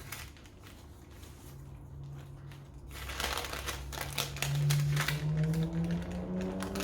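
Baking paper dusted with icing sugar is peeled away from a sponge cake, giving a steady soft crinkling and rustling that grows slightly louder partway through.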